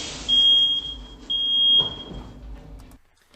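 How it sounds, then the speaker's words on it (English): A smoke alarm goes off during a kitchen fire, two loud, sustained high-pitched beeps close by, separated by a short gap, then a trailing tone fading into quieter room noise. "the fire alarm finally starts sounding off"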